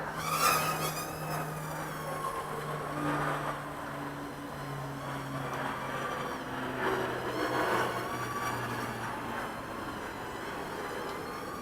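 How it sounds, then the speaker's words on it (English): Tiny Hubsan H111C nano quadcopter motors whir up, a steady high-pitched buzz with shifting tones held close throughout, no talking over it. "So you have to press and hold in the throttle stick."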